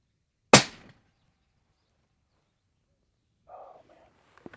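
A single sharp precision rifle shot cracks loudly and decays quickly, followed by quiet and then faint short distant sounds, no talk.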